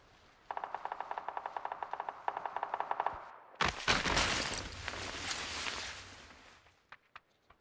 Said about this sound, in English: AI bot shooting at me from over there.